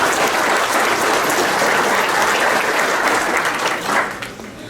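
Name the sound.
applause from banquet audience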